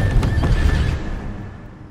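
A horse whinnies loudly in an Attack on Titan anime scene as its rider is struck and falls, a sharp neigh with hoof clatter that fades away within two seconds.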